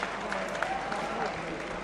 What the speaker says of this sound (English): Great round of applause for both fighters.